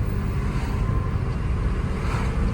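A 2002 Saturn L200 sedan cruising on a highway, steady engine and road rumble with wind noise heard from inside the cabin, continuous and even.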